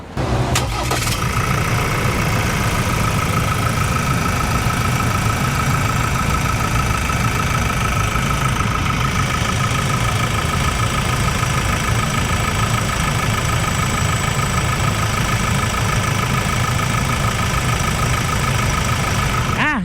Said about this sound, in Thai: ฟังเสียงเครื่องยนต์กันดีกว่า